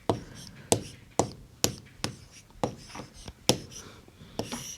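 Pen or pencil taps and scratches as an answer is handwritten on paper in a grade-three maths lesson, a steady close series of about ten strokes with a teacher speaking lightly underneath.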